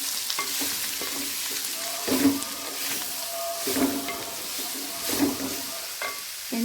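Kerala-style carrot curry with crystal salt and turmeric stirred in a pan: a quiet background sizzle punctuated by three or four distinct scraping stirs about every second and a half, close by, with no talking.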